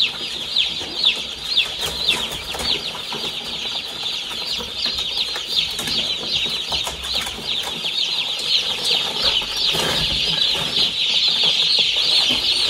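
Dense, continuous high-pitched peeping of many day-old broiler chicks gathered together in a brooder, a steady close chorus of chirps with occasional louder cheeps and rustling, no voices.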